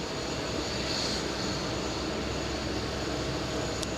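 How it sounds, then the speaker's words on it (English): Jet airliner taking off at JFK airport, a steady, broad roar of engine noise filling the scene continuously and loudly without a break. "Next takeoff, let's take a look."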